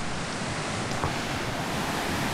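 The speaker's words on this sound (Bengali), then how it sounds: "ওই ওপর থেকে জল বয়ে আসছে" Muddy stream water runs down from higher ground over a slate-paved path, a steady broadband rush close by that holds evenly throughout, with no voices.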